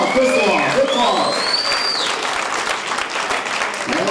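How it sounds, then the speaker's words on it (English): Audience at a comedy night benefit show breaks into sustained applause, dense clapping with scattered whoops and cheers throughout, loud and close. "Give yourself a round of applause, definitely, for coming out."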